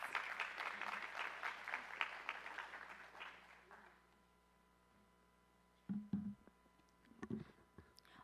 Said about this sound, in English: So let's give a round of applause to our first presenter